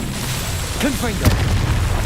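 A Confringo fire spell bursts in Hogwarts Legacy, a sharp magical blast with a short ringing whoosh over a steady low rumble and background music, followed by a second thump a moment later.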